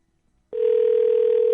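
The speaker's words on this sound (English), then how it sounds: "Look, even the dial tone sounds alien." A telephone dial tone begins abruptly after a near-silent moment, then holds as a loud, steady, unbroken hum on a phone-in radio call.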